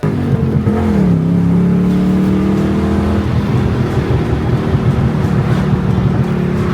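A supercar pulls away on the road during a rally, its engine revving up loud and close, then settling into a steady droning cruise with rumbling road noise.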